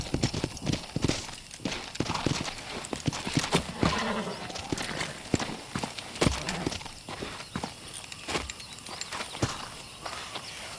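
Horses in Red Dead Redemption clip-clop with uneven hoofbeats, some sharp and close, others softer, fairly faint overall, with an occasional whinny and brief voices.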